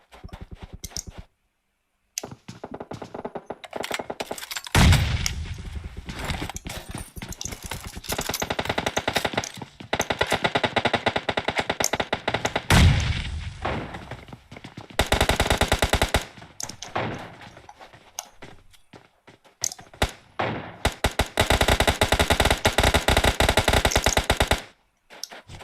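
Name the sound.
gunfire from all directions in a video game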